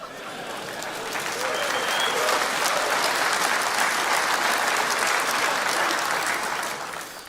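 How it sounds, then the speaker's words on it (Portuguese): A large conference audience claps in a dense, sustained wash that swells and holds steady before tapering off. "E eu não sei por que vocês estão batendo palmas."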